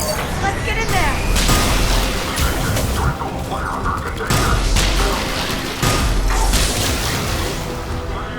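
Gunfire and explosions erupt at a checkpoint in the Mass Effect video game, with loud, sustained booms and crashing bursts that stay dense and continuous throughout, under a layer of voices.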